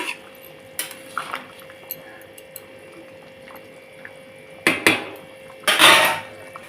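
Fried boroli fish being stirred into a thin curry with data stems and potato in a pan: sparse metallic clinks and scrapes of a utensil against the pan, some wet sloshing, then a couple of louder clattering knocks near the end.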